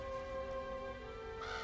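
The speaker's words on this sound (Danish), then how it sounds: "Hvorfor har vi alle de fugle i træet, vi har aldrig haft fugle før?" Birds call from a tree near a house, their harsh crow-like caws rising over a steady tonal background and swelling into a brief louder burst near the end.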